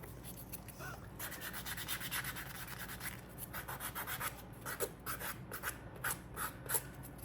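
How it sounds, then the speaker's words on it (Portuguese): Fine sandpaper rubbed along the edges of a handmade shoe, a steady close scratchy hiss with short repeated strokes that quicken toward the end, no voices. "Agora eu vou passar a lixa mais fina."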